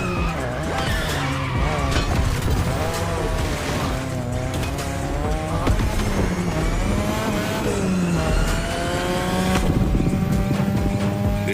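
Racing car engine in The Crew Motorfest, touge mountain driving, revving and braking through turns with tires skidding and squealing, loud and continuous with shifting engine pitch throughout.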